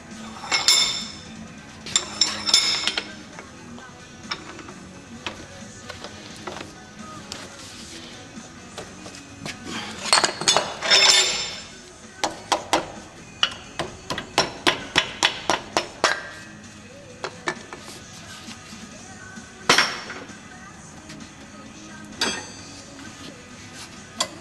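Hammer blows knock a block of wood off a freshly forged rake head for a fireplace: bursts of sharp metallic clinks and taps, some in quick runs, others single, close and moderately loud against quiet.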